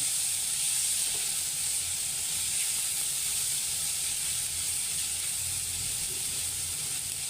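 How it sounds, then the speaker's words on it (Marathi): Soft, steady sizzle of onion and tomato frying in a pan, a constant hiss at low volume with no voices. "थोडासा कांदा मऊ पडला आहे आता ह्याच्यात टोमॅटो टाकते"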